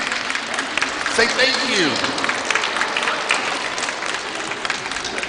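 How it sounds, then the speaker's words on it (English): An audience at a Christmas nativity applauds in a sustained, loud wash of clapping, with a voice speaking over the crowd. "Would you stand up and give them a clap for me, please?"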